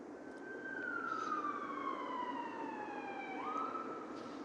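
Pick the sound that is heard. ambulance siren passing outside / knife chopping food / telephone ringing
ambulance siren passing outside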